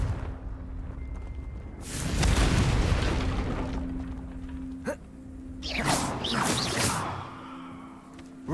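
The Confringo fire spell in Hogwarts Legacy bursts with a loud whooshing blast that swells and fades, followed a few seconds later by a second rumbling, crackling burst over steady game ambience.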